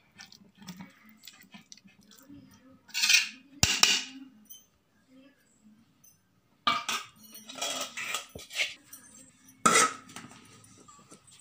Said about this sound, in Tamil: அரிசியை போடணும். போட்டு இப்படி பரப்பிக்கங்க.